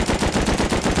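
A heavy HMLMG machine gun fires in Rust on console, a rapid, steady automatic burst aimed at a rock with no pauses, loud and close throughout.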